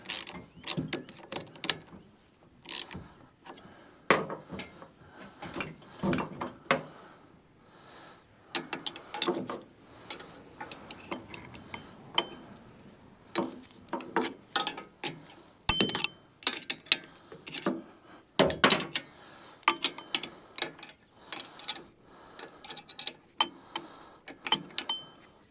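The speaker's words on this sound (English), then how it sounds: "This way here I can tighten it down till the thread's poking through the nut" Intermittent ratcheting clicks and metal clinks from a wrench tightening a bolt and nut on a boat trailer for a 1977 Polarkraft jon boat, close and sporadic in short bursts over a quiet background.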